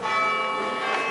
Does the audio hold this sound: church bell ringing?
yes